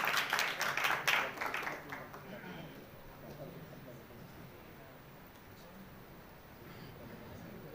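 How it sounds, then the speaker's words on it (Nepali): An audience at a Nepali Christian community gathering claps in welcome, a burst of dense applause that is loudest at the start and fades within a couple of seconds to quiet room murmur. "ताली बजाएर स्वागत गर्छु"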